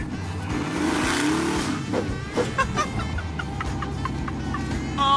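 A supercharged, slammed 1965 Ford Mustang revs with a sharp, short throttle blip, its engine rising then rumbling back to idle, accompanied by a faint whine from the blower and some background noise.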